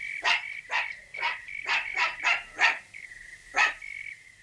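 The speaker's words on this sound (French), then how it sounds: "Pourquoi est-ce qu'il aboie?" A lone cartoon dog barks steadily, eight sharp barks in an uneven rhythm at moderate distance, with a brief lull before the last one and no voices over it.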